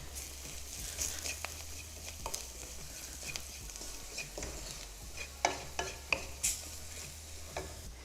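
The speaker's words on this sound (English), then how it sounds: "Now we're going to roast the spices for about 2 minutes." Cumin, fennel and turmeric roast in a pan for matar paneer, a quiet, continuous sizzle broken by scattered stirring scrapes and a few sharper utensil clicks, with no voices.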